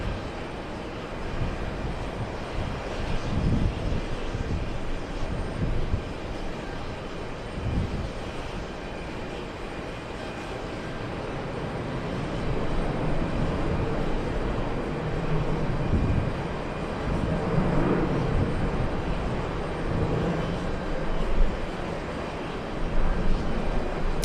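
A KLM jet airliner arriving at JFK from Amsterdam makes a rumbling engine roar that builds and grows louder partway through, over steady airport background noise.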